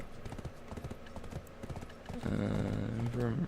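Horse hooves clip-clop in the online game Black Desert Online, a steady rhythmic trot of close, clear steps, followed by a louder whinny-like neigh near the end, with a voice speaking over it.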